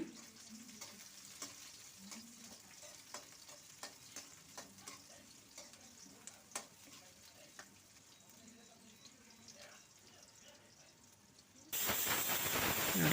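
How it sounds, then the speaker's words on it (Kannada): Four finely chopped onions frying in hot oil for a mutton curry, a faint steady sizzle with light ticks of stirring, quiet and close, ending in a sudden louder hissing burst near the end. "ಈಗ ಚಿಕ್ಕದಾಗಿ ಕಟ್ ಮಾಡಿರುವಂಥ ನಾಲ್ಕು ಈರುಳ್ಳಿನ ಹಾಕ್ಕೊಳ್ತಾ ಇದ್ದೀನಿ ಈರುಳ್ಳಿನ ಫ್ರೈ ಮಾಡ್ಕೊಳ್ತಾ ಇದ್ದೀನಿ"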